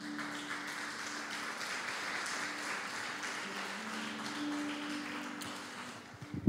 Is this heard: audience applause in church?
yes